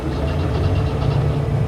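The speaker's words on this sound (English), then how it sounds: "Okay, and the engine is running." An aircraft engine runs in a flight simulator, a steady low droning hum with a slight rhythmic throb, close and even, alone without speech.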